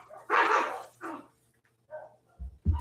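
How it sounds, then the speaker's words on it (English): Small Chihuahuas bark in a few sharp, excited bursts close by, with short pauses between barks as the dogs run about indoors. "the Chihuahuas are getting wound up, running back and forth"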